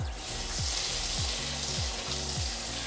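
Melted butter mixed with olive oil sizzles steadily in a hot pot, a continuous close frying hiss with no voices over it.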